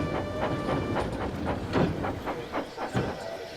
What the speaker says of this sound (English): One morning, Percy brought the first train to the station.